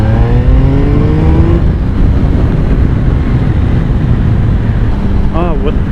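A 2016 Triumph Speed Triple S motorcycle engine roars loud and close as the rider works the throttle, with rising rev sweeps early on under heavy wind rush and a rider talking over it.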